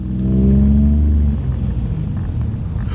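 Car on a short test drive, its engine rumbling loudly up close with a brief rising rev before settling into a steady low drone.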